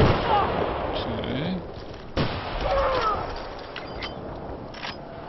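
A medic fires a gun in Battlefield: Bad Company 2 on the Panama Canal map: one sharp shot cracks out midway through a busy, noisy game soundscape with voices talking.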